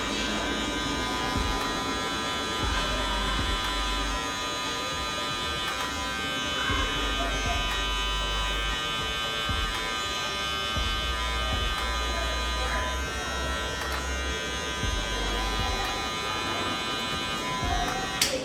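An electric hair clipper cuts a mid fade haircut, its steady close buzz running continuously with slight shifts in pitch as the blade moves, while a voice talks over it.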